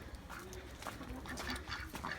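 Pigeons in a home loft on a rainy day coo and flutter softly, faint but steady, with brief throaty calls rising and falling throughout.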